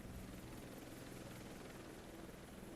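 Helicopter rotor and engine drone from a flight in Microsoft Flight Simulator 2024, a steady, even whir with a low hum holding at the same loudness throughout, no voices.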